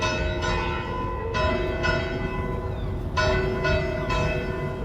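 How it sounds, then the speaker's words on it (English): A church bell rings out along the Portuguese Camino de Santiago, with repeated clear, resonant strikes whose tones hang and overlap in a steady, fairly close peal, and no voices. "The bell's going off."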